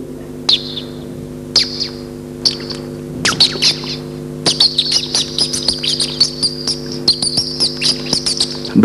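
A stage performer at a 1988 comedy show in Dubai imitates birds chirping, like a mother bird calling her chicks, with shrill, rapid tweets that start in short separate bursts and then run into a dense, continuous twittering.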